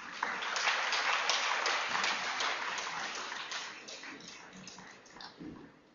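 An audience claps to welcome Rajiv Dixit onto the stage at a lecture on Swadeshi medicine, a fairly faint, steady patter of many hands that thins out toward the end.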